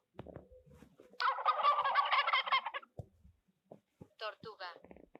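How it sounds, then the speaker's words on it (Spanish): A turkey gobbling, a loud rapid warbling burst of about a second and a half, followed by a shorter gobble after brief pauses, with a voice speaking briefly before and between. "El pavo."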